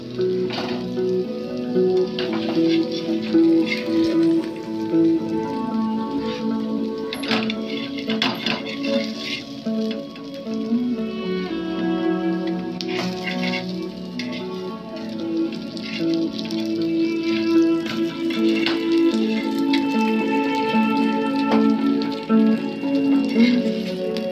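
Surmai fish fry in a pan of oil, with a steady, dense sizzle running the whole time alongside occasional metallic clinks of a utensil against the pan.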